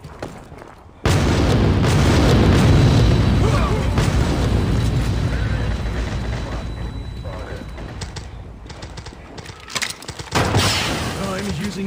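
A flashbang grenade in the shooter game Critical Strike goes off with a sudden loud boom, then a long ringing, mechanical-sounding decay that slowly fades before a second burst of noise near the end.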